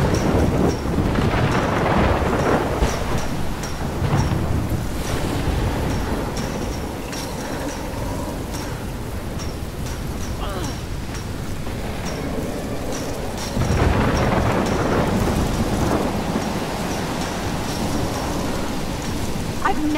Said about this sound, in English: I've never seen a storm like this in Omega.